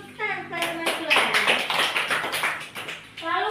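Students in a classroom give a short burst of rhythmic clapping for a classmate, quick hand claps in a patterned beat with a voice speaking at the start and end.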